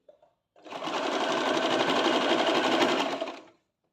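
An electric sewing machine stitching the side cut of a churidar: after a couple of faint clicks, a close, steady whirring run of about three seconds that stops abruptly, with no speech.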